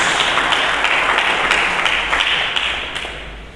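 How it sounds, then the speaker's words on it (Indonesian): A church congregation claps together during a sermon, a loud, even wash of applause that holds steady and tapers slightly toward the end. "Berikan tepuk tangan bagi Yesus Kristus."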